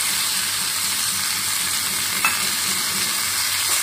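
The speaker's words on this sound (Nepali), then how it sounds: "टमाटरलाई पनि गल्नसम्म टमाटर पाक्नसम्म पकाउँछु" Tomatoes fry in a pan with garlic, cumin and spices, giving a steady, close, even sizzle with faint stirring scrapes and one brief clink partway through.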